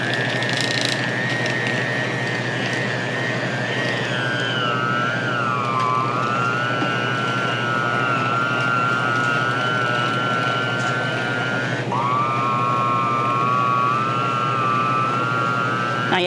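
A kitchen stand mixer runs with its beater attached, a loud steady motor whine that drifts in pitch and drops sharply partway through, continuous with no talk.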